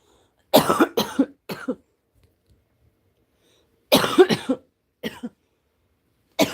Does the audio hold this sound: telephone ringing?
no